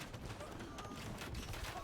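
Bombard cannons in a real-time strategy game pound a castle with a dense, continuous barrage of overlapping booming shots and impacts, under a steady wash of battle noise with commentary-like voices mixed in.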